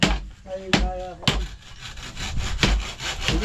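Hand saw cutting through wood while building a new table, with rhythmic rasping strokes close by, some longer pulls between short sharp bursts.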